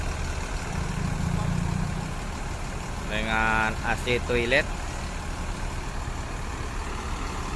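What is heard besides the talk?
front-engined Mercedes-Benz bus idling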